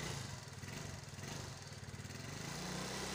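Yamaha Mio motorcycle with a worn, smoking engine runs steadily, a close, rough mechanical drone with rattling texture throughout, no talk.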